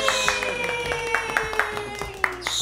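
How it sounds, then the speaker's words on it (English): A few people clap in a loose, uneven rhythm during a casual reunion at home, distinct individual hand claps heard close by under a steady tonal hum, with light chatter around them. "Right, everyone clap for Jersey"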